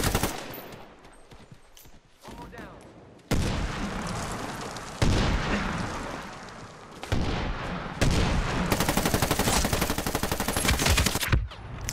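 Heavy automatic gunfire and booming shots in Medal of Honor Warfighter multiplayer combat, loud rapid bursts cutting in and out in several separate volleys, with no speech.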